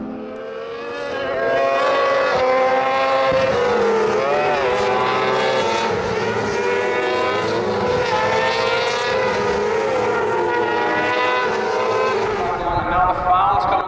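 Racing sidecar outfits at Knockhill circuit in an FSRA race, engines screaming at high revs as they slide through a corner, loud and continuous, with shifting pitch as machines pass and a commentator's voice partly audible over them.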